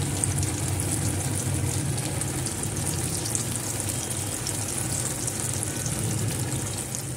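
Chickpea (kabuli chana) kababs fry in hot oil over a medium flame, giving a steady, close, continuous crackling sizzle with no pauses.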